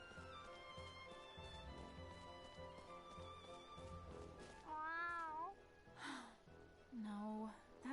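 A cat meows in the video game Star Ocean Integrity and Faithlessness, several plaintive mews in a row over soft background music, close and clear.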